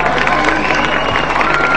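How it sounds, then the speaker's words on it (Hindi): A television show studio audience claps and cheers loudly and continuously, a dense wash of applause with scattered shouts. "तालियां"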